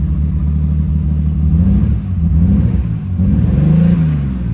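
A Nissan Skyline R33 six-cylinder engine revs unevenly and misfires, loud and close, with a stumbling, uneven note that rises and dips over several seconds, no voices.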